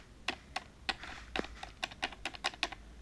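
Keys on a computer keyboard tapped in short irregular bursts, a dozen or so separate clicks over a few seconds, close and fairly quiet, with no talking.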